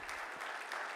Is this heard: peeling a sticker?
no